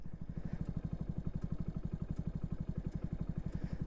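A Hero HF100 motorcycle being ridden: a steady, rapid single-cylinder engine thump pulses evenly at close range, accompanied by a faint whoosh of passing air, with no voices.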